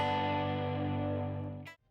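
An electric guitar played through Quad Cortex effects rings out as a single sustained, harmonically rich chord that slowly decays, then cuts off abruptly.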